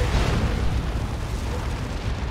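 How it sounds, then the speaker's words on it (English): Manticore artillery strikes explode in the Warhammer 40,000 battle game Dawn of War 2, forming a dense, continuous roar of booming blasts and rumbling impacts with no pause. "a bunch of Manticore strikes coming in"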